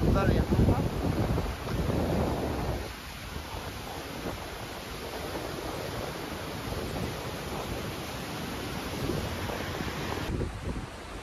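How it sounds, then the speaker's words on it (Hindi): Spring water flows beside a mountain road in the Gilgit region of Pakistan, a steady broadband rush mixed with wind noise on the microphone, continuous and fairly close for the whole stretch. "ये यहाँ पे चश्मे का पानी है, मैं आपको दिखा देता हूँ।"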